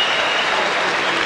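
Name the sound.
crowd roaring at a boxing match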